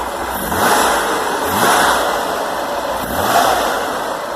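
A 110-horsepower Corvair engine in a 1964 Corvair Greenbrier van is revved three times in quick succession, each rise in pitch falling back to a rough, steady idle nearby.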